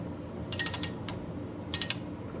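A wrench snugs connecting rod bolts on a forged Nissan VQ37VHR engine build: two brief bursts of rapid ratcheting clicks, close and crisp over a quiet background.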